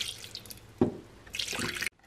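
A small splash of water goes onto raspberries with basil for a homemade juice: a brief drip, then a short burst of pouring near a sink that stops abruptly, with no voices.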